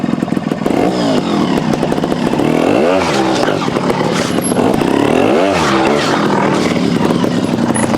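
A 2023 Sherco STR 300 trials motorcycle engine runs close by, idling with a steady rumble and revving up sharply twice in quick surges.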